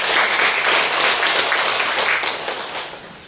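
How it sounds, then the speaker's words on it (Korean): A short, steady wave of audience applause from a church congregation, full and close for about three seconds before fading slightly. "박수 부탁드립니다"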